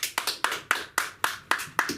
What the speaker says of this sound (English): give you a warm round of applause for a fantastic performer